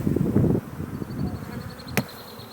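Honey bees buzz steadily in a low droning swarm as they are shaken off a frame during foulbrood testing, loudest at first, with a brief sharp click partway through.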